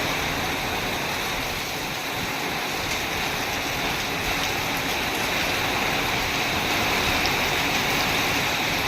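Heavy rain pours down in a dense, unbroken roar of falling water, steady and loud throughout, with no voices.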